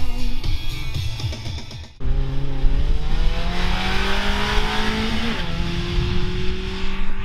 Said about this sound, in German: Jetzt ist die Grosskategorie dran. Also grosse Motoren, lauter Sound